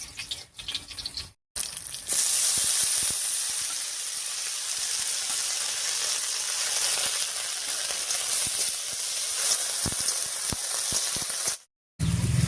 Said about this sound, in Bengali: এবার রসুন পাতাটা দিয়ে দিচ্ছি